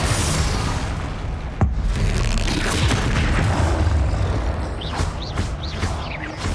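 A rumbling magical blast from the Confringo spell in the Hogwarts Legacy video game, a loud sustained boom with a sharp crack partway through and whooshing effects trailing off, dense game audio with no clear speech.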